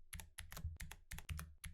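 Close, rapid keystrokes on a computer keyboard while entering code in 3D effects software, arriving in quick bursts separated by short pauses, with no voices.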